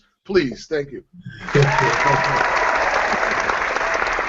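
A canned applause sound effect fired from a soundboard during a podcast recording swells in after a brief spoken exchange. The crowd clapping then holds loud and even until the end.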